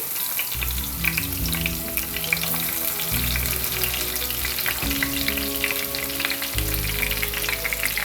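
Chopped onion frying in a pan of oil for a Bengali shrimp and courgette dish, a steady dense sizzle throughout with low stirring rumbles coming and going, close and fairly loud with no talk.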